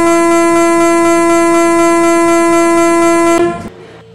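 A passenger express train on the Howrah to Asansol route blasts a long, loud, steady horn over rolling wheel noise. The horn cuts off sharply near the end and the sound fades away.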